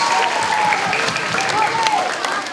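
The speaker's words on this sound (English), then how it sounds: "how about we give one more round of applause to all the music teachers for music in our schools" A school assembly audience of students applauds the music teachers during Music In Our Schools Week, a dense, steady wash of many hands clapping, fairly close and loud throughout.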